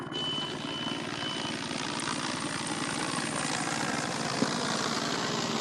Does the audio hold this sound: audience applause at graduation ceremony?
no